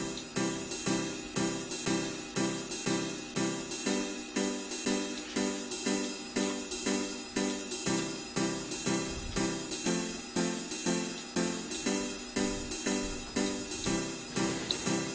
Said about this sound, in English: the progression just on piano without bass sounds like this